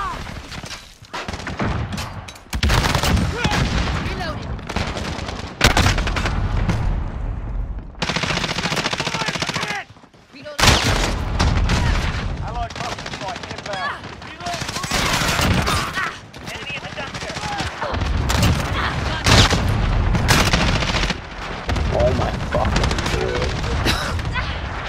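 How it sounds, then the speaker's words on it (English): Gunfire in a Mortal Kombat match, a dense, loud barrage of rapid shots and blasts running almost nonstop, with only a brief gap, under a player's voice. "Shotgun."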